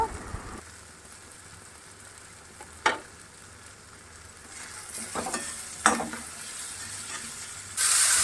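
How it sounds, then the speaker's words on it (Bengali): Spice masala fries with kasuri methi in a pan, giving a soft continuous sizzle broken by a few sharp stirring scrapes and spatula clacks, louder toward the end. "কসুরি মেথি দিয়ে আবার একটু ভেজে নিব"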